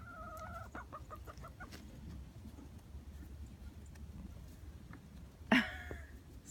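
Homestead chickens cluck near a tarp in a winter storm, a short run of soft repeated clucks followed later by one sharp, louder squawk, heard against steady wind-like background noise with no talking.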